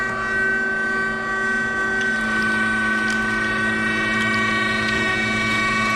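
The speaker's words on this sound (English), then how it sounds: "using a plastic grinder that will keep your meat insulated a little bit better and doesn't start to heat up as you grind" An electric meat grinder with a plastic housing runs continuously as it grinds meat coarsely for bratwurst, giving a loud, steady motor whine with stable tones and no pauses or voices.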